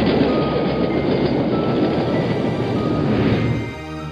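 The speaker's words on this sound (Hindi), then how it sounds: "तभी सामने से एक एक्सप्रेस ट्रेन पास हुई।" An express train rushes past in a cartoon, a loud, continuous roar of rolling rail noise that holds steady, then eases off near the end.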